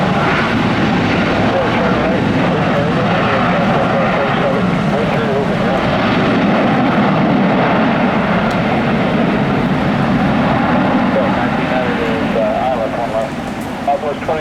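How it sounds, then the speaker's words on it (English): A KC-135 Stratotanker passes directly overhead near an airport during a storm, its engine roar loud, steady and broadband throughout, with no clear talking. "There's a KC 135 Stratotanker right above us right now."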